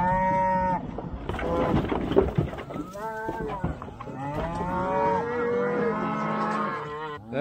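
Cattle moo repeatedly in long, drawn-out calls, several cows overlapping at close range with a steady background hum throughout and no talking.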